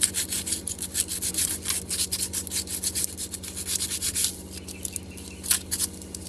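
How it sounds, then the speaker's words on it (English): Coarse sandpaper scrubbing a metal cooling system part on a Ford Laser KN/KQ or Mazda 323 BJ, quick rhythmic back-and-forth rasping strokes, close and fairly loud, easing off briefly near the end. "I'm just going to give that a quick clean up with some fairly coarse sandpaper."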